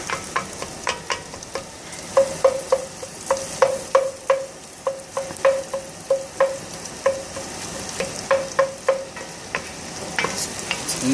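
Sausage and garlic fry in a pan for escarole bean soup under a steady sizzle, with a rhythmic series of sharp utensil taps and scrapes as the food keeps being stirred, close and loud, no talking.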